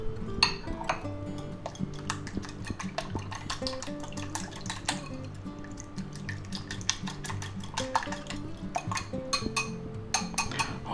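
Seasoned eggs beaten in a bowl with a utensil, a rapid run of close clinking taps against the side that keeps a steady, busy rhythm for the whole stretch.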